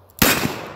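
A single loud .357 Magnum revolver shot firing a coated 158-grain semi-wadcutter reload over Alliant 2400 powder, a sharp close blast after near silence with a long ringing decay.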